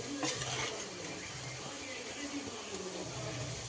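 Chicken frying in a pan for a gravy is stirred, giving a close, continuous sizzle with faint scraping and clinks of the utensil against the pan, and a voice speaks softly underneath.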